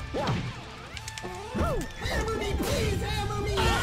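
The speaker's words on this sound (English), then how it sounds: "My smashes do nothing." Smash attacks land on an opponent in a video game as a series of sharp whacks and crashes amid game effects, with a voice talking over the hits.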